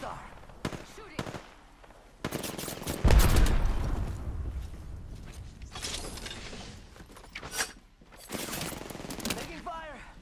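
Video game gunfire crackles in bursts amid a firefight, with a loud, dense stretch of shots and explosive impacts midway, then scattered rounds, while a player's voice calls out faintly in between.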